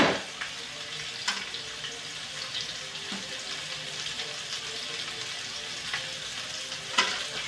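Leftover seeds fry in a hot pan with a continuous crackling sizzle, with a few sharper pops and scrapes along the way, close and steady without talk.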